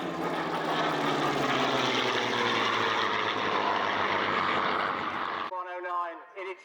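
Spitfire Mark 8 and Messerschmitt 109 piston-engine fighters at an air show, a loud droning propeller roar with rising and falling engine tones that cuts off abruptly near the end, leaving a brief clattering sound.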